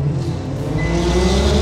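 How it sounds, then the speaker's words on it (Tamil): A road vehicle passes by, its engine a loud, steady drone that swells slightly as it goes past, close and continuous with no talk over it. "என்ன வண்டி வருது"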